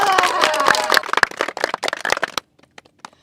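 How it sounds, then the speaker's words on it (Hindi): A crowd claps for a team arriving at a local village cricket match, brisk close clapping with some cheering that thins into scattered claps and then stops. "तो इनके लिए एक बार जोरदार तालियां हो जाए।"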